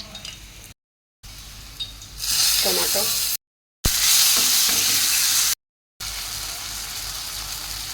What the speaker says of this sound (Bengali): ওখানে পেঁয়াজটা ভাজা হচ্ছে, আর এখানে আমি তেলটা দিয়ে দিলাম।